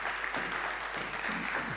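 A conference audience claps briefly, a moderate patter of hands under faint speech-like sounds, fairly distant and even.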